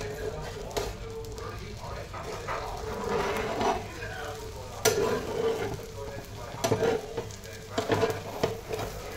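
Oil sizzling in a pan beneath an egg chapati, a continuous close crackle with stirring and scraping bursts, while someone talks over it.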